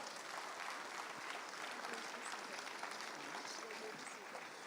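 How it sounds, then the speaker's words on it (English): An audience at a CARICOM opening ceremony breaks into sustained, dense applause that fills the room at a steady level from start to finish. "Can I have another applause, please?"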